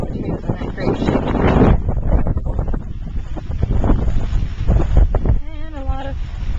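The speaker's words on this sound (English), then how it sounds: "We are still getting gusts." Wind gusts buffet the microphone during rain after Hurricane Ike as a person talks, the rushing rising and falling in bursts.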